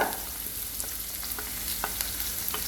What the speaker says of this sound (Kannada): ಜೀರಿಗೆ ಚುಟ್ಟು ಚುಟ್ಟು ಅನ್ಬೇಕ್ರಿ